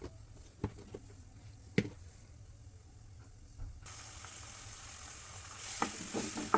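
Tempering seeds sizzle in hot oil in a home kitchen for a clove bean and tomato curry. The sizzle is quiet and crackly, with a few pops and clicks, and grows into a louder steady hiss.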